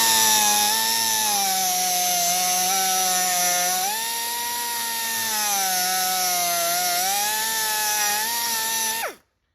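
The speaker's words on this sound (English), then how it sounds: "So I'm gonna make a little relief cut right there." A steady, loud power tool whine with a sliding pitch cuts a relief into 1964 Chevy Impala fender sheet metal, running continuously for about nine seconds before stopping abruptly.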